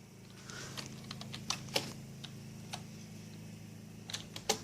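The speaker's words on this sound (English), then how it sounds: "It's really hard to type because I don't have a normal keyboard." Keys clacking on an unusual, non-standard computer keyboard, a sparse run of separate taps with a few sharper strikes, close by over a steady low hum, no voices.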